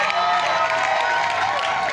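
A crowd at a live event applauds and cheers, a loud, dense, continuous roar of clapping and voices that holds steady throughout without pause.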